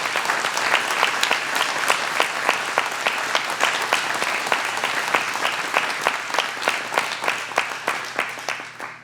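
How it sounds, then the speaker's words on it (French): Sustained audience applause at the official opening ceremony of the SLPA festival's 22nd edition, dense steady clapping from a large crowd, loud and continuous throughout with no voices over it. "Je vous invite à les applaudir, tout ce beau monde"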